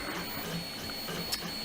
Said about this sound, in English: The thing that's printing in the background right now, which is just over there on the printer, is the main keyboard